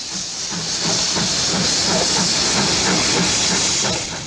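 A British steam locomotive lets off a loud, steady hiss of steam that swells in and holds close at full strength, with faint rhythmic chuffing underneath.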